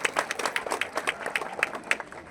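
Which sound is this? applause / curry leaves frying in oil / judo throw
applause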